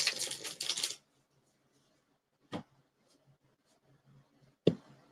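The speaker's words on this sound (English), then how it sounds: "I'm shuffling the cards." Tarot cards riffled briskly for about a second up close, then two short isolated card taps or snaps follow after a quiet pause.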